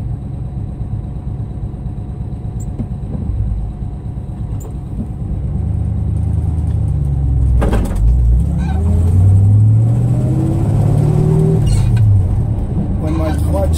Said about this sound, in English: it's still idling a little high, so the choke should still be on